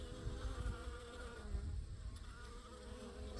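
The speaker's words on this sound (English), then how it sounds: "this wasp is walking around really freely and it's attacking the bees" Bees and a wasp at a beehive in autumn, a steady, close swarm of buzzing hum that swells and fades slightly throughout, with no voices.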